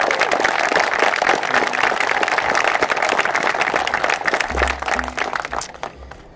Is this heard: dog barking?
no